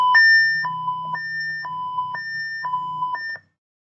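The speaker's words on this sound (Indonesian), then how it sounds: "maka alarm akan otomatis menyala, tandanya heater sudah selesai memanaskan objek" Simulated furnace heater alarm in VTSCADA software, a bright electronic beep repeating in seven even pulses about every half second, clean and alone with a faint low hum beneath, stopping abruptly.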